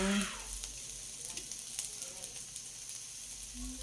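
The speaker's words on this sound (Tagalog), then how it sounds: "Kaya nga po inihaw ko lang po sa kawali." Dried fish (tuyo) grilling in a pan without oil, a soft steady sizzle and crackle with light scraping, close and fairly quiet, no voices.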